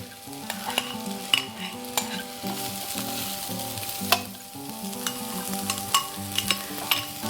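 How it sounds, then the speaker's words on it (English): Chopped onions roast in a hot pan, sizzling steadily while a utensil scrapes and clacks against the metal in repeated, irregular stirring strokes, close up and with no talking. "And I just stir them around as they're roasting till they get nice, again, nice char marks on them"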